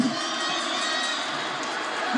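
A stadium crowd cheers in a steady, roaring wash at a 4x800m relay race near the final lap, loud and continuous with no distinct breaks.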